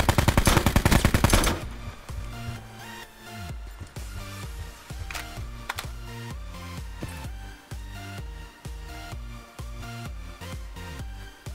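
Rapid automatic gunfire and single shots in the Call of Duty: Blackout battle royale, a dense loud opening burst followed by repeated bursts at steady intervals over game music, with no talking.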